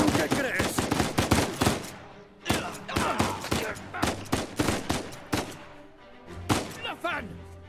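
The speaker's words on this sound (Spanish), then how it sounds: "Me están disparando." Enemy gunfire in Uncharted 4 comes in rapid, closely spaced shots, near and loud, with a short pause around the middle before the firing resumes. Voices speak between the bursts.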